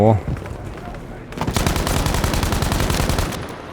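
A gun in Battlefield V fires a long, fast automatic burst after a short pause, sharp rapid shots in an even rhythm, loud and close, overlaid on game ambience.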